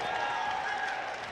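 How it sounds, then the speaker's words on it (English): Drexel basketball fans applaud their team from across an arena, a steady, distant wash of clapping and crowd noise heard briefly over commentary. "are giving a round of applause to their team"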